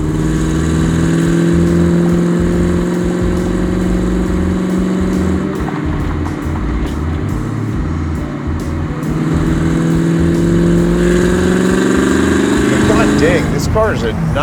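Supercharged 900 hp LS7 V8 in a custom 1966 Chevy, loud exhaust burbling and droning steadily while driving, with a brief lift and rise in revs late on; the engine fills the cab.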